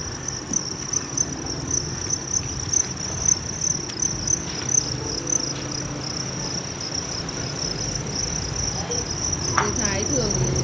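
Dense, steady chorus of many crickets chirping close by on a cricket breeding farm, continuous shrill trilling with a few faint rustles and knocks underneath.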